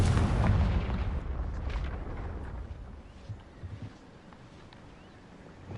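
A single Confringo blasting spell explosion from the video game Hogwarts Legacy bursts loudly at the outset, then its heavy rumble gradually dies away into quiet.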